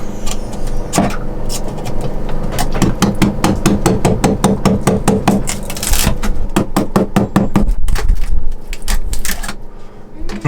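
A hand saw works through a wall panel inside a sailboat during a toilet-room renovation, giving loud, close, rapid rasping strokes with knocks and clatter between bursts.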